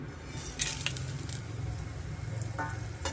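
Bay leaf and fennel seeds frying in oil in a pan for white veg pulao, giving a soft, continuous sizzle with light pattering crackles. The sound is faint and close, with no talk over it.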